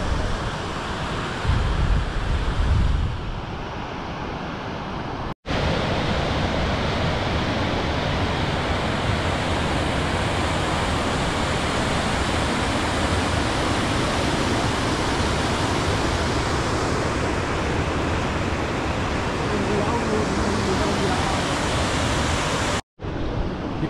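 Pykara waterfall rushes in a dense, steady roar of falling water, loud and unbroken, heard up close with some wind buffeting at the start.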